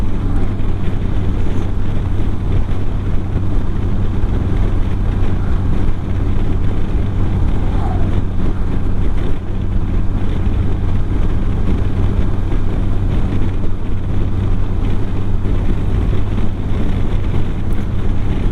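A motorcycle runs at a steady speed during a ride, its low engine drone continuous under heavy, constant wind rush.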